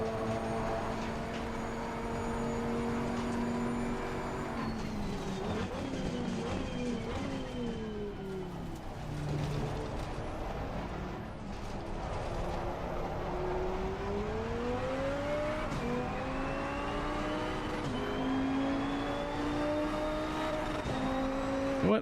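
Race car engine from a sim racing game played on a PXN V12 Lite wheel with a MOZA Racing KS rim, droning steadily throughout with pitch rising and dropping through gear shifts, loud and continuous with no talk.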